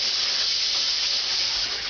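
Water pours into a container in a steady, close hissing stream that runs without a break for a couple of seconds.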